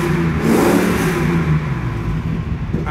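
A Range Rover Classic engine revs under throttle with a loud, continuous rumbling roar that holds steady for a few seconds before easing slightly.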